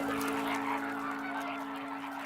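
A flock of greater flamingos calls in a Po Delta lagoon at Comacchio, a dense, continuous chorus of goose-like honking heard at moderate distance over steady background hum.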